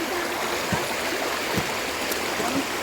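Mountain water gushing steadily through a hose line, a dense, continuous rushing flow that stays close and even, with a few soft knocks and no talking.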